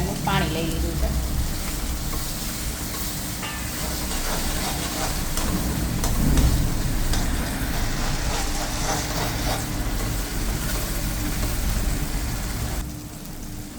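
Crushed garlic-chilli paste hits hot frying spices for a chana dal, giving a loud, steady sizzle and crackle that runs throughout, swelling briefly midway, with a faint voice in the background.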